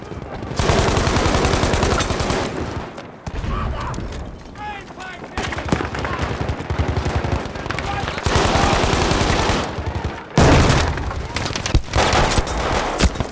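Gunfire in the video game Battlefield V during a multiplayer match, sustained rapid machine-gun bursts and scattered shots, loud and nearly continuous with brief pauses, over battlefield ambience.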